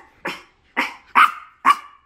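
A Chihuahua barks four times in short, loud, evenly spaced bursts indoors, each bark sharp and close with no talking in between.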